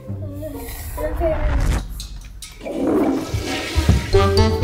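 A toilet flushes in a household bathroom, its rushing water swelling midway through and then draining away, heard close up while excited voices talk and exclaim over it.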